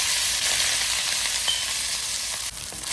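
White rice and pepper powder fry in hot oil in a pan for Chinese egg fried rice, a loud, dense, continuous sizzle with faint scraping stirs underneath.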